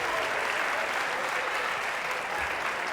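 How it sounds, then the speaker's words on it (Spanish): Audience at a live comedy show breaks into dense, steady applause that fills the room and holds at an even level for the whole stretch. "un aplauso para mi amiga de Oaxaca"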